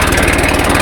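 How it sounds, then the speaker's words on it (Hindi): A tractor engine runs with a steady, throbbing pulse and a smoky fault, close and loud over a short stretch. "आज जैसे ही ट्रैक्टर स्टार्ट करा तो देखा ट्रैक्टर चल तो पड़ा"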